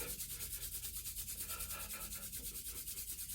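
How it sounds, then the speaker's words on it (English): Palms rubbed firmly together to warm the hands, a steady close-up swishing friction in quick back-and-forth strokes, continuous and alone without any talk. "We're pressing our palms in towards one another. Just imagining we're kind of rolling dough."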